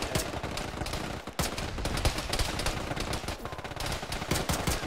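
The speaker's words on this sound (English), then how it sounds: "I'm gonna shoot this guy in the head." Continuous automatic gunfire and rapid shots fill a ShackTac Arma firefight set in Fallujah. The bursts are loud and close and overlap with almost no pause.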